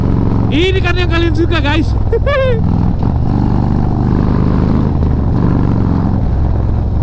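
A big motorcycle on a Bali Sunday morning group ride roars close and loud under throttle, a constant engine drone; someone speaks briefly over it at the start.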